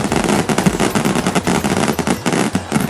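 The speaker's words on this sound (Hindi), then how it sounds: "आतिशबाजी ऐसी कि पूरा इलाका गूंज उठा।" Fireworks crackle and pop in a dense, continuous rapid-fire burst at a temple celebration, loud and close, like machine-gun bursts, with no pauses across the whole stretch.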